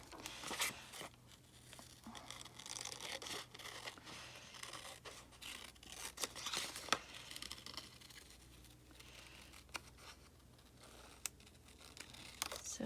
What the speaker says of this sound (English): let's cut this one out first and see.